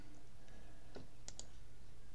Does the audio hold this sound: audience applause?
no